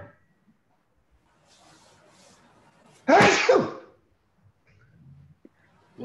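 A single loud, sharp sneeze bursts out during a quiet lecture, near and explosive, after a stretch of near silence with faint room sounds.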